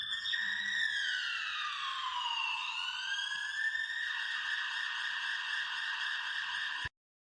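A cartoon ambulance siren wails steadily in rising and falling sweeps for about seven seconds, loud and alone, then cuts off abruptly.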